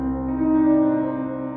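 A piano from the IK Multimedia Pianoverse plugin, set in a distant large theater, holds a soft sustained chord that sounds far away and reverberant.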